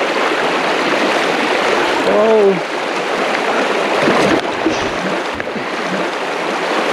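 A high-country river in Victoria flows steadily as a continuous broadband rush, loud and close throughout, while a voice briefly exclaims over the water near the middle.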